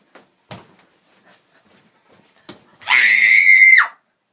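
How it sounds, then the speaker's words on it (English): A person screams into a pillow during a quick-fire dare, after a few soft knocks and rustles: one loud, sustained, somewhat muffled scream of about a second, fairly close. "Scream into a pillow."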